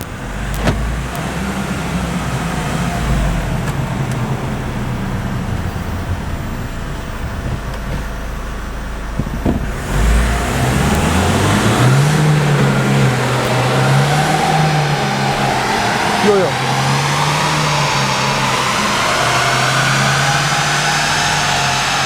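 An Opel Astra J 1.6 CDTI diesel engine runs steadily during an exhaust smoke test, then revs up and down in repeated rising and falling surges, loud and close, with no talking.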